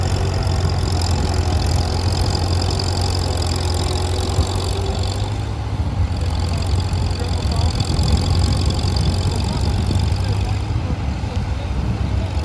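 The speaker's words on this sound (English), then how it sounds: "Jeff is using a 333 Massey Harris pulling a John Deere 55 plow." A Massey Harris 333 tractor engine drones steadily while pulling a John Deere 55 plow at a plowing contest, a loud, continuous low rumble with an uneven chug throughout.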